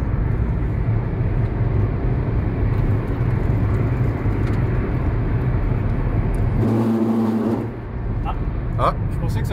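A car drives fast around the Nordschleife track, its engine a loud, continuous roar heard from inside the cabin, with a brief dip as the car goes through a compression.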